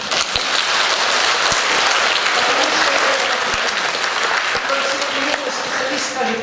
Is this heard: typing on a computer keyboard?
no